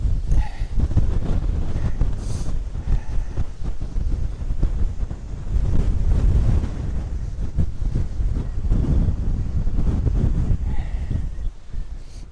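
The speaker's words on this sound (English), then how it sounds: "I'm literally perched behind these rocks because it's so windy." Strong wind buffets and roars across the microphone on open moorland at Kinder Scout, in gusty, uneven bursts, loud and continuous with no other clear sounds.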